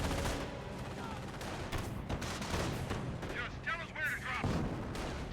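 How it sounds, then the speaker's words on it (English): Artillery barrage with mortar fire in the Company of Heroes 1 game, a dense run of booming blasts and rapid gunfire reports rolling over each other at loud, even level throughout. "This may result in the M2 firing a barrage right there."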